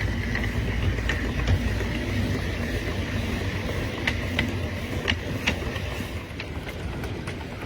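A 3½ inch gauge model of a Britannia steam locomotive runs and gathers speed, giving a steady mechanical rumble with faint, irregular clicks and puffs close by.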